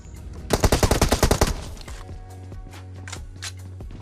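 Automatic gunfire in a mobile shooter game plays on an iPhone 11: a dense, rapid burst of loud shots lasts about a second, then gives way to quieter in-game noise, a steady hum and a few scattered faint shots.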